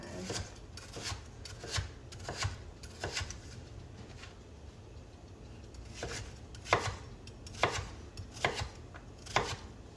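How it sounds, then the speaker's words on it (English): A knife chopping potatoes into pieces on a cutting board for a steak dinner, with irregular knocks and scraping strokes, brief pauses between bursts, close and fairly quiet. "So some pieces are bigger, I'll cut them thinner."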